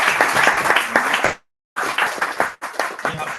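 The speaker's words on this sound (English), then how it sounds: "can you please give a round of applause to my family?" Audience applause at a talk on open mapping communities across Africa, a burst of loud clapping that cuts out briefly and then resumes, fairly close and without speech.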